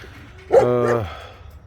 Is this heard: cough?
no